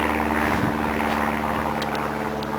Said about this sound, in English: we've got an aeroplane going over